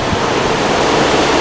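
Octominer mining rig with its GPU fans maxed out at full speed, a loud, steady broadband whoosh of rushing air, constant and unbroken with no talking.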